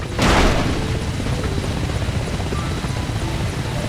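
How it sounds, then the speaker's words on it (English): A Mi-17, a slow Soviet transport helicopter in the Arma Reforger game, gives a loud, steady rotor and engine roar that swells with a boom at the start, then holds a constant rumble throughout. "The Mi-17 is a slow-moving Soviet workhorse."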